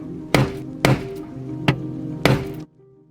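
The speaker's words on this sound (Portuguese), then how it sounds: "Depois de um pouco de marteladas..." Four hard hammer blows strike a Rolls-Royce car door trim at uneven intervals, each a sharp thud with a short ring, ending in quiet hum.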